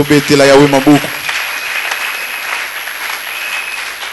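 A church congregation breaks into loud applause and acclamation, with a raised voice calling out at first before clapping carries on alone and gradually thins.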